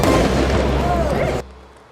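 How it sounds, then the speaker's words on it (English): Fireworks fired by protesters at police in riot gear in downtown Los Angeles, a dense crackling burst of pops and bangs mixed with crowd noise, cutting off sharply after about a second and a half. "Protesters firing fireworks at local law enforcement in riot gear."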